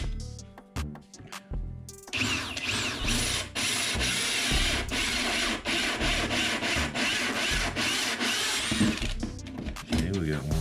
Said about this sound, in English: 3-inch hole saw drill, and we're going to use this to drill the holes.